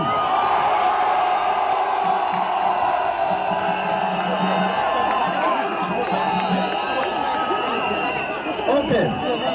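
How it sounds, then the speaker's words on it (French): Large crowd at a presidential campaign rally in a stadium in Douala, Cameroon, cheering and clapping in a loud, continuous wash of voices and whoops, with shouting rising near the end. "Je vous prie d'applaudir pour lui."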